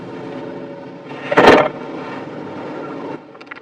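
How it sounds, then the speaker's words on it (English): Electronic parking brake on a 2018 Lexus NX300 engaging automatically: a short, loud mechanical whir lasting about a quarter second, rising out of a steady low interior hum. "That noise you just heard was the sound of the electronic parking brake automatically deploying."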